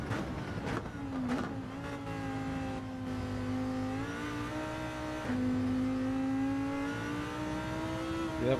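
Race car engine in Gran Turismo 7 revving and climbing through gears on a circuit, with steady rising whine and shifts, loud and continuous without speech.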